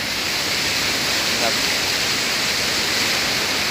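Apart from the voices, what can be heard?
strong flowing river water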